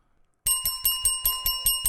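A bell is rung for an order-up, sounding as about seven bright, ringing dings in a quick steady rhythm, close and loud, with no voices.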